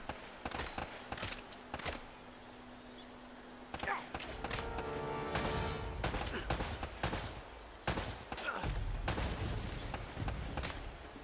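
Gunshots striking a barrel in the action game Uncharted: sharp, separate shots in irregular bursts, with a longer clattering, rattling patch in the middle and quieter gaps between volleys.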